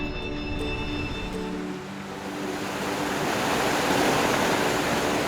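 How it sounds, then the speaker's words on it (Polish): Water falls steadily over a concrete historic hydro-engineering structure, a broad, even rushing roar that stays constant throughout with no voices. "To Grzmoty Bytomki, unikatowy w tym rejonie wodospad, spływający z betonowego zabytku hydrotechniki."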